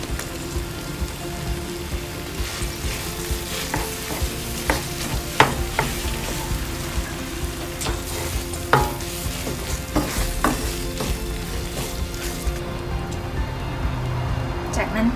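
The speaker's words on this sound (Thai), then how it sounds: "จากนั้นเราก็จะนำเทมเปกับกระชายที่ปั่นแล้วนะคะลงไปคั่ว" Blended tempeh and white fingerroot (krachai) being dry-stirred in a pan, with a continuous sizzle broken by repeated scraping and clicking strokes of a utensil, close and fairly loud throughout.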